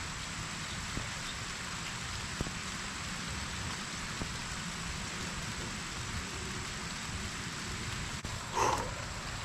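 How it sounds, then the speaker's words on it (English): Rain falling on a half-built forest survival shelter, a steady soft patter with a few sharper drop hits and a brief louder burst near the end. "Yep, it's raining."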